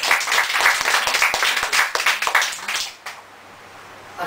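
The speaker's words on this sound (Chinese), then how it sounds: "拍手啊" An audience applauds at a book-launch talk on Taiwanese folk customs, with brisk, dense clapping for about three seconds before it stops abruptly, leaving near quiet.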